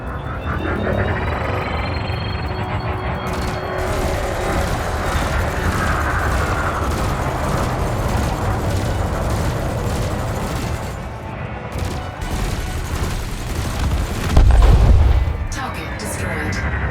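Multi-cannon fire rips into a target drone in the space combat game Elite Dangerous, heard as a dense, unbroken roar of rapid shots and rumbling impacts for the whole stretch, with a heavier burst near the end.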